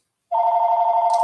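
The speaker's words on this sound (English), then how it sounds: "that's a phone ring" A telephone rings with a single loud, steady electronic tone that starts abruptly and holds for about a second, close and alone.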